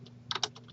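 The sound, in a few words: typing on a computer keyboard in Excel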